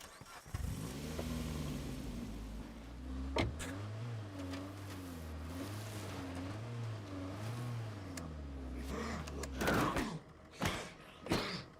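A car in the video game State of Decay 2 drives with a steady, wavering engine drone over several seconds, fairly quiet, with a few clunks and knocks near the end and no talking.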